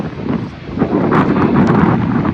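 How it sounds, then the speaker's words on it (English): Chilly late-October wind at a Lake Erie beach, a steady broadband roar of gusts buffeting the microphone, loud and continuous with slight swells and no voices. "the wind cuts through you"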